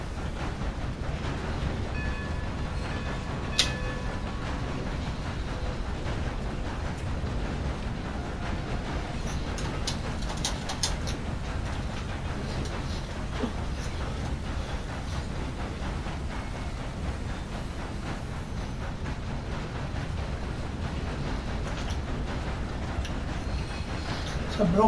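A train rumbles steadily under way while being driven, a continuous close, low rolling roar with faint rattling and a few brief high squeals, lasting throughout.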